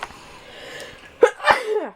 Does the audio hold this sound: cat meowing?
no